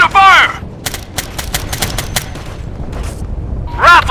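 Rapid gunfire bursts crackle in the video game Operation Flashpoint: Red River, a run of sharp repeated shots through the middle with shouted voices before and after.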